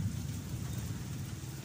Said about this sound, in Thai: ฝนเช้านี่จักหน่อย